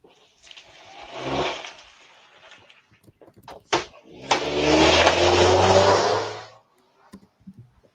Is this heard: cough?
no